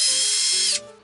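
A 3.5mm drill bit bores out a hole in a quadcopter frame, a short close whirring burst of under a second that cuts off abruptly, leaving a faint low hum.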